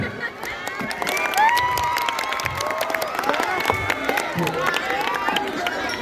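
A crowd applauds at a school extracurricular demo during MPLS orientation at SMPN 101 Jakarta, with sharp clapping over a bed of crowd chatter, children's shouts and talking voices throughout.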